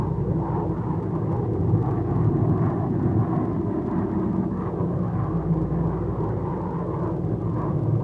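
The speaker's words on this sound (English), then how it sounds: "Yes, this is the X-1A." Bell X-1A rocket aircraft in flight, a steady, loud, dense roar with a deep rumbling low end, sustained evenly throughout with no voices.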